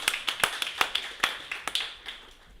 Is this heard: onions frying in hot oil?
no